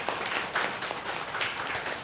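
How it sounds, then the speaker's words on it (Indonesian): Audience clapping at a game jam community meetup in Bandung, a steady patter of many hands lasting about two seconds at moderate level. "Tepuk tangan dong buat Bandung."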